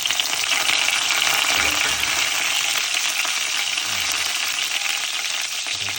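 Fennel seeds and curry leaves frying in hot oil for a crab gravy make a loud, dense, continuous crackle and sizzle, close and unbroken, with faint stirring and no voices.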